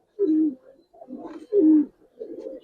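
A pair of Giribaz pigeons coo close by, two bursts of throaty rolling coos each followed by softer murmuring, with no other voices.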